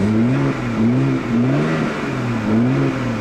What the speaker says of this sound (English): the 335is has its own uniquely tuned exhaust